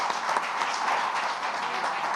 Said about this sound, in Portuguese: Aplausos a Cristo.